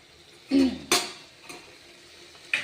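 Curry being stirred in a pan after peanut powder and coconut powder go in, with a few scraping clinks of the spoon against the metal and a soft background sizzle, close and fairly quiet.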